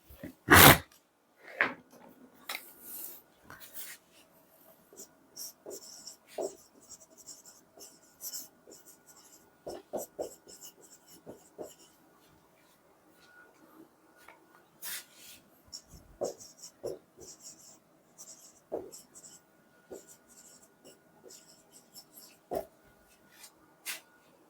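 Writing on a board during a chemistry lecture on reaction kinetics: a steady run of short scratchy strokes and taps, close and fairly clear, with brief pauses between words and no talking over it.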